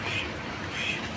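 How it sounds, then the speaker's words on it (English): Two short duck quacks, about half a second apart, come through a constant rush of wind noise at dusk in Punggol. "Yes, it's a duck."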